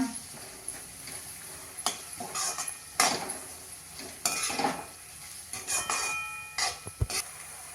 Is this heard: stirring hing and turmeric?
yes